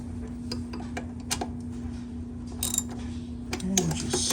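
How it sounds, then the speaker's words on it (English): A socket wrench snugging up bolts on an oil burner fuel pump, faint sparse metallic clicks and ratcheting over a steady low hum, close and quiet. "And we'll just take our socket."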